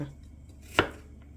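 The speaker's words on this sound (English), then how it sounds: "So here we're just chopping our garlic" A single sharp knife chop through garlic on a cutting board, a crisp thud standing out against quiet background.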